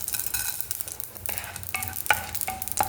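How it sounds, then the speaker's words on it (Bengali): Raw whole matar (pea) lentils lightly dry-frying in a pan, with a steady low sizzle and repeated scraping of a spoon stirring them, several sharper clinks near the end. "গোটা ডাল একটু হালকা ফ্রাই করে নেবো।"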